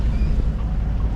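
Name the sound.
sailboat motoring under engine power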